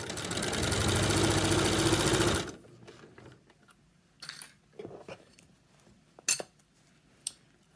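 A sewing machine runs steadily for about two seconds while stitching the seam of a laptop case, then stops, leaving faint handling clicks and rustles.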